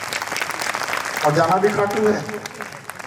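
Audience applause at a Khatu Shyam katha, a Hindu religious discourse. The clapping is fairly light and steady, swelling briefly midway, and runs beneath a speaker's continuous talk.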